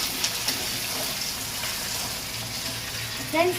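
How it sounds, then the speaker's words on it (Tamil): Tomatoes sautéing with onions in a pan, a steady close hiss and crackle of frying throughout, with a brief stirring scrape at the very end. "நான் தக்காளி இப்போ போட போகிறேன் ஃப்ரெண்ட்ஸ். தக்காளி நல்லா வதக்கிக்கோங்க ஃப்ரெண்ட்ஸ்."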